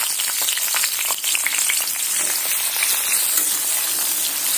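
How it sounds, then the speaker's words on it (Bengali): Eggplant pieces hiss and crackle as they fry in plenty of hot oil in a wok, a loud dense sizzle that holds steady throughout. "এবার আমি বেগুনগুলো তেলের মধ্যে ছেড়ে দেব।"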